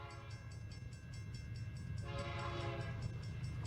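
A BNSF westbound freight rolls down grade on the Mojave desert mainline near Goffs, a steady low rumble with a horn sounding partway through, heard from a distance.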